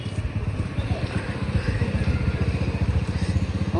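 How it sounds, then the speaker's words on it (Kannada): A motorbike engine turns over and settles into a steady, rapid low putter close by, the rhythmic pulsing running unbroken to the end. "ನನ್ನ ಗಾಡಿ ಸ್ಟಾರ್ಟ್ ಮಾಡ್ತಾರೆ"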